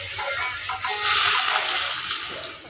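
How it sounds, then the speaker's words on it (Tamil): Water splashes and gushes into a pan of green beans cooking with salt, a brief pour that swells midway and tapers off, heard close and alone. "காய் வேகிற அளவுக்கு தண்ணி சேர்த்துக்கணும்."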